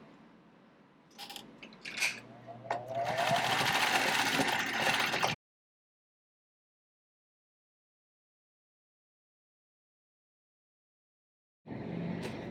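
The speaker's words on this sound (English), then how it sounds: "Then I'll go ahead and sew them together." A sewing machine stitches pieces of fabric together while a shirt is upcycled into kids' clothing: a few short clicks lead into a loud, close, steady motor whir of about two seconds that stops abruptly, then the machine starts up again briefly after a long silence.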